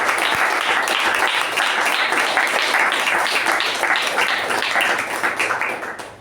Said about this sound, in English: Let's give them both a thunderous round of applause.